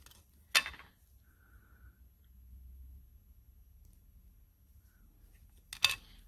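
Small cutters snip jewelry wire for orbit chain links: two sharp, close clicks about five seconds apart, separated by near silence with faint handling sounds.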